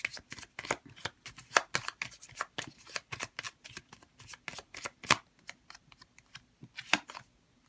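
Tarot cards being shuffled for a reading, a quick run of crisp riffling slaps and flutters in irregular bursts, close and fairly soft, with no talking.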